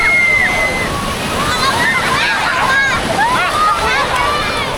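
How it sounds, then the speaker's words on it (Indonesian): Surf washing and sloshing at Slili Beach near Yogyakarta, a steady broadband rush of breaking waves close by for the whole stretch, with bright chirping whistle-like sounds over it. "kita bisa menikmati deburan ombak ini secara seru"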